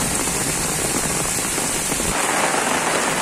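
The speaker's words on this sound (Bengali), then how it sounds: "প্রচুর বৃষ্টি হচ্ছে" Heavy rain pours down onto a road during a lightning storm, a loud, dense, unbroken hiss of drops close by with no voices.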